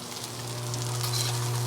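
Onions fry in oil on a flat home griddle, giving a steady, close sizzle that swells slightly over a low electrical hum.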